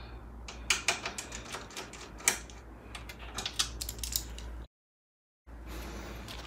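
Screws being removed from the cage of a Lian Li Lancool II PC case, heard as a close run of small metallic clicks and ratcheting screwdriver turns over a low hum, with a short silent gap near the end.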